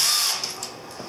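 A tiny homemade flathead bit in a power drill spins the speedometer on a Honda CB1000 custom, giving a steady, close high-pitched whir that tapers slightly over about a second, with no talk.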